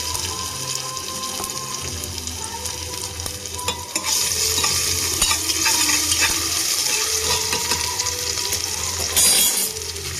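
Whole spices such as cinnamon, with ginger garlic paste, frying in a pan for a wheat rava biryani. A steady broad sizzle runs throughout and grows louder after a few seconds, with occasional scrapes and stirring clicks and no talking.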